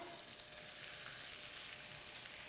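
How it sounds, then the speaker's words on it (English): Tuna steaks searing in a hot pan give a continuous, even sizzle with a soft crackle throughout, close but fairly quiet, with no one speaking. "You want a nice little sear on the one side."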